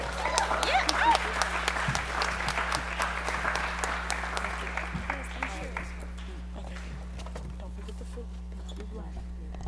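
Audience applause at a social justice forum plenary session, dense clapping loud at first then thinning and fading over several seconds, with a steady low hum underneath.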